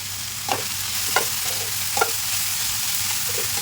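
A chicken and vegetable spring roll filling sizzles in a pan, a continuous hiss of frying broken by several soft scraping stirs.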